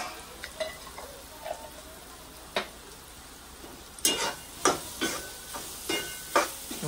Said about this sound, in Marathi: बघा असं हलवतच राहायचं त्याला.